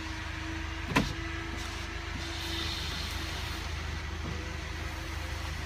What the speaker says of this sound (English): automatic windows down and up